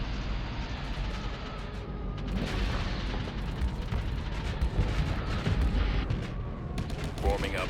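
Ship weapons open fire during a space battle in the modded strategy game Starsector, a sustained, heavy barrage of booming, crackling blasts that grows denser and louder partway through.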